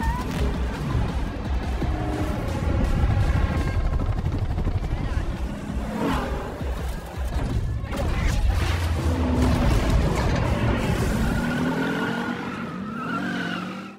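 Ambulance racing police cars in a film car chase: roaring engines, whooshing passes and skidding tires blend with a dramatic score, loud and dense throughout, with voices underneath.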